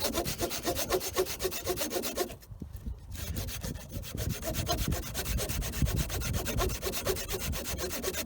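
An old, worn backpacking saw cuts through wood, its strokes rasping in a steady back-and-forth rhythm, close and loud, with a brief pause partway through before the sawing resumes and continues to the end.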